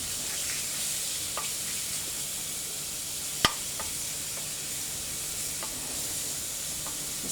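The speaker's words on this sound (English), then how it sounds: "Just spread them to the bottom of the pan so they can cook really quickly." Thin chicken strips frying in a pan for a chicken and bacon carbonara, a steady even sizzle throughout with one sharp click midway and faint clatter, no talking.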